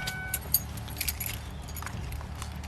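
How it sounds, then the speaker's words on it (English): Car keys jangle in a series of bright metallic clinks as they are handed over during a traffic stop on a wet road, with a car's low rumble running steadily underneath. "Turn off the car and pass me the keys"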